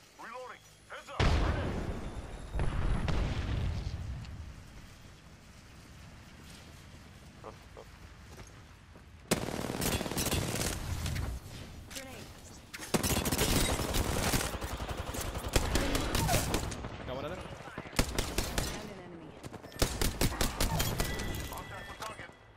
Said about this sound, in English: I'm taking shots. I'm getting shot.